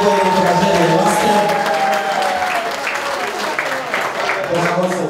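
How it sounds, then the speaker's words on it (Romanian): A wedding party crowd claps for the bride and groom, loud continuous applause with some cheering over sustained music tones, lasting the whole stretch at close range. "Și vreau să-i aplaudăm încă o dată."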